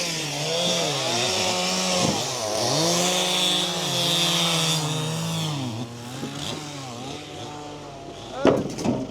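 A motor saw bites into river ice during ice harvesting in Yakutia, its engine droning steadily with rising and falling pitch before tapering off into some clattering knocks near the end.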